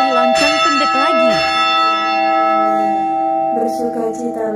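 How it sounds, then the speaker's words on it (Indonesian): Church bell tones ring out loud and close, with long sustained overtones that decay slowly, during an Angelus-style prayer; a voice speaks over the first part of the ringing. "3 kali lonceng pendek lagi."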